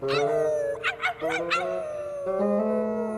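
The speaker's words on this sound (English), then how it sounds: "with a moon that bright, a dog's just gotta howl" A cartoon dog howling at a bright moon, one long wavering howl that breaks into yips in the middle, then rises into a sustained howl again, loud and close.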